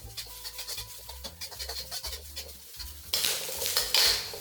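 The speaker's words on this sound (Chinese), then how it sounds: "这些香料呢，一定要炒到够透" Shallots, lemongrass, curry leaves and spices being stir-fried for Kam Heong fish heads: rhythmic clinks and scrapes of a utensil against a wok, then a louder burst of sizzling frying.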